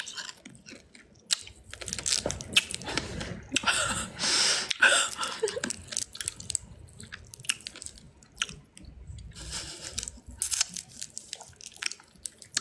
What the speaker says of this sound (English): I always crunch my Jolly Ranchers.